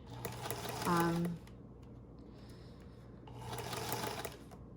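A serger overlocking fabric edges while sewing a hospital gown runs in two short bursts of rapid mechanical whirring, with a quiet pause between; a person talks over part of it.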